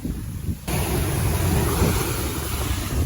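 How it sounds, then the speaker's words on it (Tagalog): Strong ocean waves crash and surge in a steady heavy roar, with wind buffeting the microphone throughout. "para makita nyo kung gaano kalakas yung alon"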